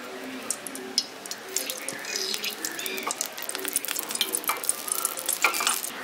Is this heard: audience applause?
no